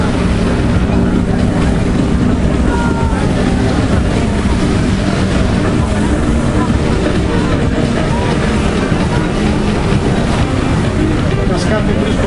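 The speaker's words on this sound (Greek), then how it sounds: "τα σκάφη βρίσκονται ήδη στη δεύτερη στιγμή του αγώνα." Racing powerboats roar through a boat race on open water, producing a loud, continuous, wind-buffeted engine drone with splashing, while a commentator talks over it.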